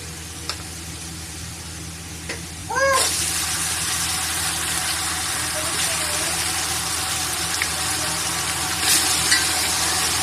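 Garlic-ginger paste dropped into browned onions in hot oil gives a sudden loud sizzle a few seconds in. The sizzle holds steady afterward, with a few faint squeaks heard just before it starts.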